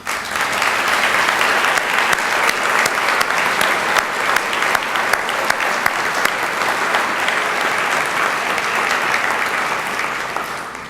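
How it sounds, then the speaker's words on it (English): At a United Way campaign kickoff, an audience gives a former CEO a full, sustained round of applause, loud and even all the way through. "I just want to take this moment for all of us to give her a round of applause and thank her"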